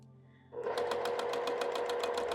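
A sewing machine stitching a quilt seam starts up after a moment of quiet and runs steadily, its fast rhythmic needle chatter close and loud with a constant motor hum underneath.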